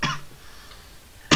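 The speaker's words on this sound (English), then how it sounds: "just coughing up" A single short, sharp cough rings out close and loud at the end, after a faint earlier throat sound and near silence.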